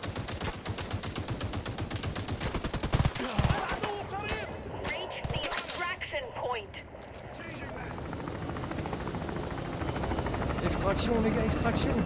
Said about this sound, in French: Il y a une MG.